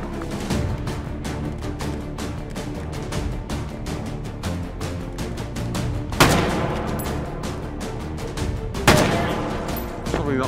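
Rapid bursts of gunfire from a shooter video game with bayonets, dense overlapping shots throughout and two louder, sharper blasts standing out near the end.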